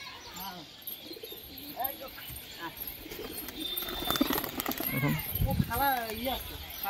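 Homing pigeons, including a red one, give soft repeated coos at close range, rising over a low background, with a voice talking intermittently.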